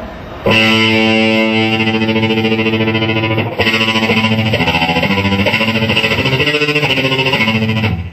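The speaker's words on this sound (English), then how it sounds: "So if I turn up the distortion," An electric guitar runs through a Line 6 modeler with the distortion turned up, playing loud sustained chords followed by a stepping riff of individual notes, close and continuous with no talk.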